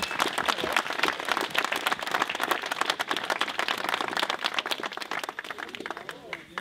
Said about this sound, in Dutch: Een enorm applaus voor deze mensen lijkt me zeer zeker op de plaats.